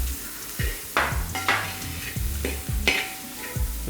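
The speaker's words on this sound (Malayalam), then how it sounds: "ചതച്ച് വച്ചേക്കുന്ന വറ്റൽമുളക്, അത് നമുക്ക് ഇട്ട് കൊടുക്കാം." Crushed dried chillies dropped into chicken kondattam frying in a pan, a loud steady sizzle broken by repeated sharp scrapes and clinks of a spatula stirring, with no talk.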